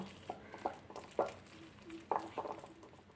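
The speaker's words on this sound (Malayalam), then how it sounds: "ഇനി നമുക്ക് ഇതുപോലെ ഒരു ഹാൻഡ് വിസ്ക് കൊണ്ട് നന്നായിട്ടൊന്ന് മിക്സാക്കി കൊടുക്കാം" Hand whisk mixing wheat dosa batter in a bowl, giving soft irregular scraping and tapping strokes, a few sharper clicks against the bowl, fairly quiet with no talking.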